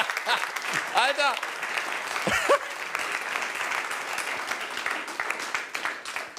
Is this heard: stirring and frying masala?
no